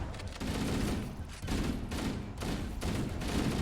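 Shotgun blasts from Flood enemies in Halo: Combat Evolved fire in quick succession, a series of loud, booming bursts at a roughly regular pace with no break between them.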